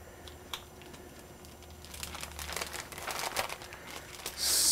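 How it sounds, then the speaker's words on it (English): A plastic Ziploc bag crinkles and rustles up close as it is handled, with bursts of crumpling that grow louder toward the end. "Put it in a Ziploc bag."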